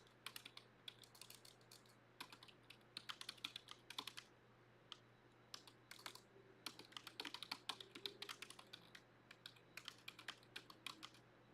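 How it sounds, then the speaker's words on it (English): Rapid bursts of keystrokes on a computer keyboard, fairly faint and close, in irregular runs with short pauses over a steady low background hum, with no talking. "I'll go ahead and type it in here."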